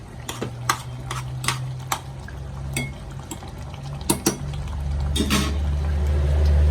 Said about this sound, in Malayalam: കുറച്ച് കറിവേപ്പില പിച്ചിട്ട് കൊടുക്കാം ഇളക്കി കൊടുക്കാം